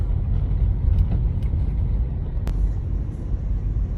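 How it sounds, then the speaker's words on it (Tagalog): Heavy road traffic crawling near UP Town Center by Ateneo: a steady, dense low rumble of idling and creeping car engines, with a couple of faint brief higher clicks over the continuous drone and no talking. "hanggang UP Town Center yung traffic na to."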